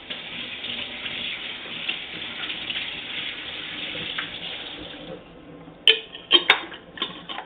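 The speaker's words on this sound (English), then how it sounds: "the bottle is perfectly clean after it's gone. just rinses out." An empty vinegar bottle is rinsed out under a running kitchen tap, giving a steady, fairly loud gush of water for about five seconds before it eases off, followed by a few sharp knocks and clatters as the bottle is handled.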